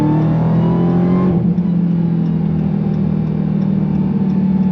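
A 797-horsepower 2021 Dodge Charger SRT Hellcat Redeye Widebody under hard acceleration, a loud sustained engine roar heard from inside the car, its pitch climbing, then easing into a steady heavy drone.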